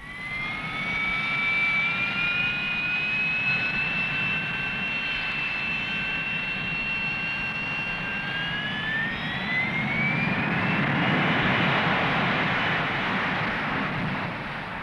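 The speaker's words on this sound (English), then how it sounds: "A few hundred yards of takeoff run from between the craters is all the Harrier needs." A Harrier jump jet takes off, its jet engine roaring loud and continuous with a high whine that rises in pitch as it powers up, rumble swelling toward the end.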